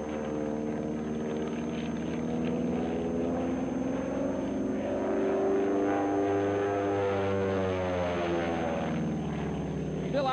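A stunt plane flying aerobatic manoeuvres, including a hammerhead turn, drones steadily with a sustained engine and propeller note that rises and falls in pitch as it climbs and turns, loud and continuous throughout.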